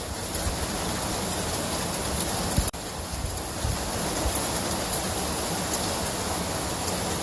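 A heavy thunderstorm downpour with wind, a dense constant wash of rain close to the microphone, broken by one sharp click partway through, with no talking.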